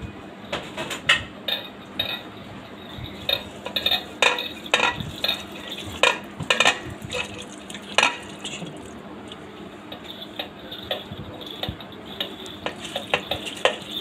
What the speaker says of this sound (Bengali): দিয়ে আবার মশলাটাকে আমি মাংসের সাথে পেঁয়াজ আর রসুনগুলোকে মাখিয়ে নেব।